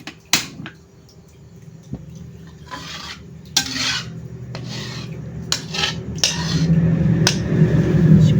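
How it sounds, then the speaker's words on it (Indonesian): Metal utensils scraping and clanking against a pan as fried rice is stirred, with a rising sizzle building toward the end. "Iki aku arepe masak nasi goreng."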